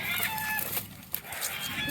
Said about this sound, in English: The chickens are excited about something.